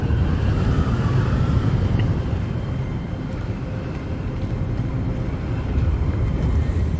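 Steady wind blowing through an outdoor area in the Hogwarts Legacy video game, a broad low rushing roar that stays loud and even throughout with no voices.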